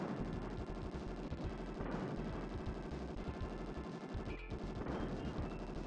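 Enemy gunfire in the video game Bazooka Blitzkrieg: dense, continuous bursts of shots and booms sustained at high loudness throughout, with no talk.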